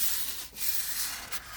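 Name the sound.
spray being applied to a model ship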